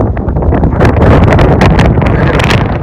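Strong gusty wind sweeps across a cricket ground during a local tournament match, buffeting the microphone in a loud, steady roar with no voices.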